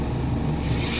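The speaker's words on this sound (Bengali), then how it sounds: "জল দিয়ে দিলাম।" Water being poured into a pan of pea and potato vegetable curry, a loud continuous rushing gush held close throughout.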